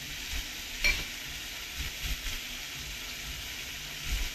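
Raw papaya, freshly picked, sautéing in a pan as a spoonful of grated ginger goes in, a soft steady sizzle with a few light stirring scrapes and small clinks, fairly quiet and close, no talking.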